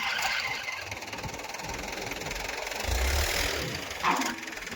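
A tractor engine runs steadily on a farm during the summer millet harvest, a continuous mid-pitched rumble with a slight knock and a brief sharper squeak near the end.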